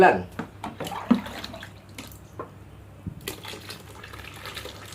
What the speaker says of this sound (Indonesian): sekarang kita masuk air yang ke-9.